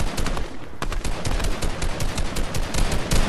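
Rapid automatic gunfire in the battle royale game Fortnite rattles on in a dense, continuous stream of loud, close shots with no voices.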